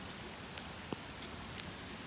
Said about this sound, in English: You know, it's raining here.